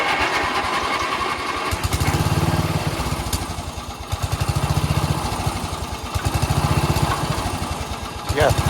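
An old lawn mower engine, left sitting unused for many years, runs loud and steady with repeated surges as the throttle is opened up, its rough pulsing drone dominating while people talk over it.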